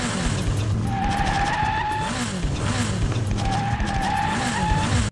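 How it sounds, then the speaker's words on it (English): Tires screech in a Ninja Gaiden video game, with looping skidding squeals repeating in a steady cycle alongside pulsing game music, loud and close throughout with no talking. "Going up the stairs, I hear the worst noise. Those tires screeching"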